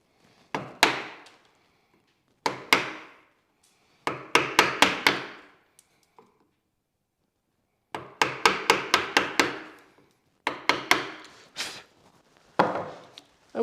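A chisel is struck with a mallet to cut wood for a chair in a small workshop, sharp near blows in quick bursts of three to six separated by short pauses, with no talking.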